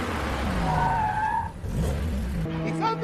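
A Lamborghini prototype car skids during a test drive, tires squealing in a rising, wavering screech over engine rumble before a brief lull and a fresh burst of tire noise.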